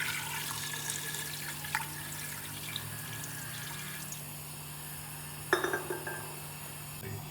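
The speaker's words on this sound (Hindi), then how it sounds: "ये 2 गिलास पानी ये मैं इसमें ऐड करने लगी।" Two glasses of water poured into a cooking pot holding mixed mutton pieces for a mutton and cauliflower curry, a steady splashing flow with a brief clinking burst near the end.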